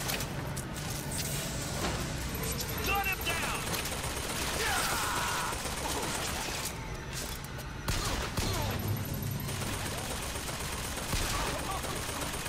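Turret gunfire in Bioshock Infinite, dense sustained bursts of automatic shots with crashing impacts, loud and continuous, with a brief lull midway before firing resumes.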